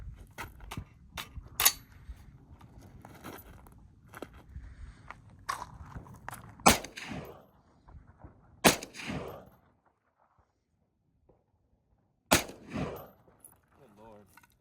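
Several sharp rifle shots crack out at Tannerite-packed Christmas present targets on an outdoor range, four spaced reports with short echoing tails, fairly faint, over low background noise and some quiet talk.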